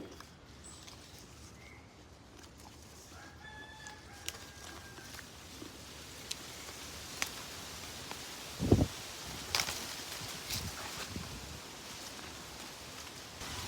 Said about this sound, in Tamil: தோட்டத்தில் இன்றைக்கி பயங்கர வெயிலும் பயங்கர காற்றுமாக இருக்குது.